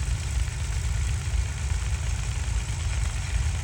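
A Massey Ferguson 3-cylinder tractor idles at a Norfolk ploughing match, giving a steady, close, low diesel rumble that runs evenly throughout with no speech.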